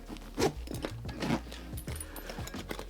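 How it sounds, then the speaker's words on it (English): A zipper on an AZO Equipment Amhara backpack is pulled open in a few quiet, close rasping strokes, soft and scratchy with small pauses between pulls. "you unzip this sucker"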